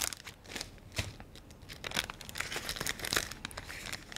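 Crinkling and rustling of small Ziploc plastic bags holding brined anchovies as they are handled, in quick irregular crackles and crumples close by.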